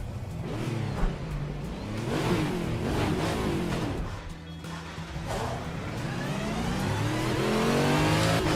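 A race car from the RSS pack in a racing video game revs hard, its engine note climbing and dropping through gear changes, loud and continuous with no talk over it.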